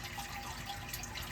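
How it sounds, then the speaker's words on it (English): A Puulye square outdoor water fountain flows in a steady, close, continuous splash and trickle with no other sounds. "Nothing is more relaxing to me than listening to the water flow on my square water fountain from Puulye."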